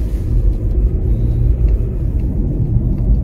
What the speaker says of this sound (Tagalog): First time ko lang din mag-drive ng na may snow sa daan.